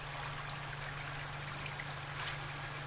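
Steady trickling, splashing water from wading through a shallow stream in Grim Dawn, close and continuous with a few brighter splashes.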